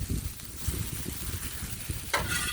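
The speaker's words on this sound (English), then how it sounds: "let's stir our meat" Meat being stirred on a hot griddle during a stir fry, with a steady sizzle and scraping bursts close by, and no talk.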